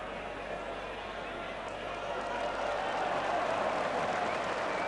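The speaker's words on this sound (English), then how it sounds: "Just listen now to the crowd and get their reaction" A crowd at a 1987 indoor bowls match in Waterloo breaks into sustained applause after a shot, a dense steady clapping that swells slightly toward the end, with a commentator's voice over it.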